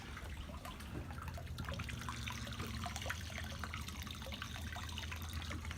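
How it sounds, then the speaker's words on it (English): Freshwater pump on a boat's water maker running during maintenance, a low steady hum under trickling, splashing water with faint drips throughout. "You'll hear the freshwater pump run"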